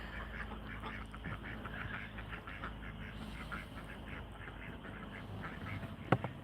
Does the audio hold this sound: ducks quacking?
yes